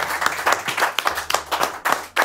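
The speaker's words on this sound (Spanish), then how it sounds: "fuerte el aplauso para Rodrigo Vázquez" An audience applauds a comedian on a talk show, a busy burst of many clapping hands with uneven pulses, fairly close and loud, with no speech over it.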